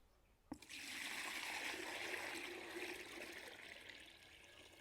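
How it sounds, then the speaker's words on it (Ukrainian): Water pours steadily into a 10-litre bucket to about a third full, a continuous close splashing gush that starts abruptly and runs on alone. "Беремо воду і наливаємо одну третю води у 10-літрове відро."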